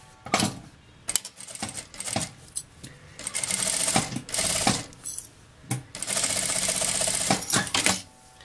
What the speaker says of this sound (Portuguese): agora eu vou passar uma costurinha aqui, ó, na beiradinha desse viezinho bem abaixo